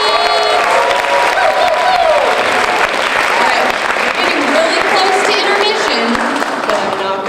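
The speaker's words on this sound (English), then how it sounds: "Applaud the poets!" A high school poetry slam audience applauds the poets with sustained, dense clapping and some cheering that fills the whole stretch, with voices mixed into the crowd noise.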